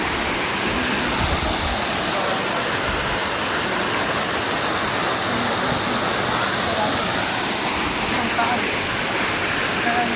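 Waterfall at a riverside falls in Baler, Aurora: a dense, unbroken roar of falling water, loud and close, steady for the whole stretch with no pauses.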